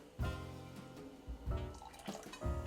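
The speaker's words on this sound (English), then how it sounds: "Pour it into a mug, and there you go." Hot cocoa made with milk, cacao and vanilla is poured into a mug close by, giving soft liquid splashes and drips in a few uneven bursts.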